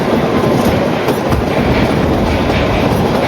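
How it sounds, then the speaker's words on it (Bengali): Heard from on board, the Kalka–Shimla toy train runs steadily along its narrow-gauge mountain track. A close, continuous rolling rumble carries a rhythmic clickety-clack of wheels over rail joints, and no voices can be heard. "4000 ফিটেরও কিন্তু ওপরে আমাদের এই টয় ট্রেন উঠবে"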